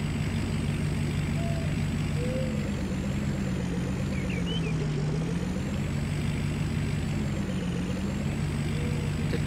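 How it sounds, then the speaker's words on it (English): A dually work truck in Farming Simulator 19 drives with a steady, droning engine hum whose pitch rises and falls slightly, continuous and alone, with no talk. "Truck we're driving right now, the dually, it's just our work truck"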